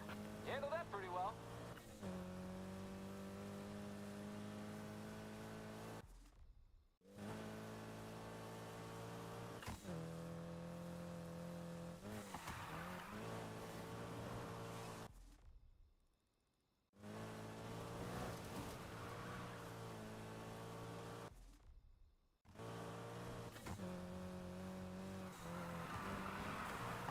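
Car engine revving steadily in the Need for Speed video game, with tire squeal and skidding during a police pursuit, loud and sustained over long stretches broken by a few short silences, with voices talking over it at times.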